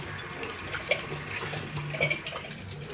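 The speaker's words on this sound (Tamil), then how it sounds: "இப்போ இதையும் வந்து நம்ம நல்ல நல்ல தண்ணியில் நல்லா கழுவிக்கலாம்." Brass pooja vessels are rinsed under running water, giving a soft continuous splash and trickle with small clinks and drips, close by and fairly quiet.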